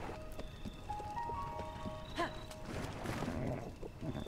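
A horse's hooves clip-clop at an uneven pace with a snort or whinny, surrounded by game effects and background tones, in The Legend of Zelda: Tears of the Kingdom.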